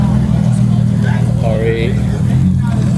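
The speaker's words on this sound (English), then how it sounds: "Another Huracan pulling up, you guys see here" A Lamborghini Huracan pulls up at a supercar meet, its engine a low, steady rumble that stays constant beneath a voice.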